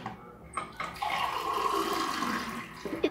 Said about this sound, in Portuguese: Como você vê aí, eu jogando água.